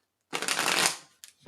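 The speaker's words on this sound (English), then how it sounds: "One more shuffle." Runic Tarot cards being shuffled in a long, close riffling burst, followed by two short shuffling flicks near the end, with no talking.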